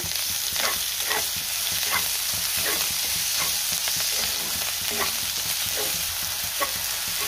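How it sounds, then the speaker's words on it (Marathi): Chopped tomato and finely cut coriander cooking with onions in a pan, giving a dense constant sizzle with a spatula scraping and stirring at a loose, uneven rhythm, close up and with no voices. "आता आपल्याला ह्यामध्ये टोमॅटो घालायचा आहे आणि बारीक चिरलेली कोथिंबीर घालायची आहे आणि टोमॅटो चांगला मऊ होईपर्यंत शिजवून घ्यायचा आहे"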